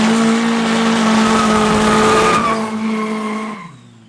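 Front-wheel-drive drag race cars, a VW TDI against a Taz, roar past at full throttle with tire squeal, the engine note dropping and fading as they pull away; loud and close, no talk.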